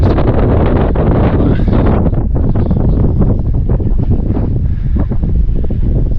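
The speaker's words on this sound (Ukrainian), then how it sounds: "і ще й вітер піднявся" Strong wind buffets the microphone throughout in Pripyat near Chernobyl, a loud, steady broadband roar with gusty rustling.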